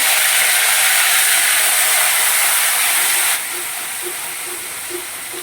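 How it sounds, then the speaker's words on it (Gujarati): Hot oil tempering with asafoetida and tomato for an eggplant bharta-style dish makes a loud, continuous close hiss and sizzle that drops slightly partway through, with no voices. "હવે હિંગ મૂકીશું, ટમેટી નાખી દઈશું."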